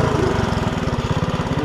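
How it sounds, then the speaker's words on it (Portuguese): A small motorcycle engine runs steadily close by, with a fast, even low-pitched pulsing throb and no talk over it. "É motor de moto, pô."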